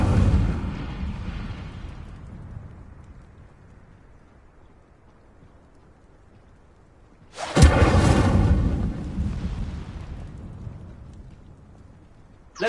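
An Incendio fire spell cast in the Hogwarts Legacy video game erupts as a sudden loud burst with a roaring whoosh that fades over several seconds. A softer rumbling blast opens the clip and dies away before it.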